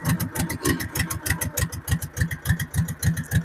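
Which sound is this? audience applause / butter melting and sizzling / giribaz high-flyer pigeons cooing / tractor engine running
tractor engine running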